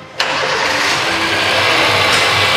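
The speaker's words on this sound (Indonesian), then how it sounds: "Kita coba starter." A 2008 Honda Jazz with an i-VTEC engine cranks and catches, settling straight into a loud, steady, smooth idle that runs close up and alone for the rest of the moment.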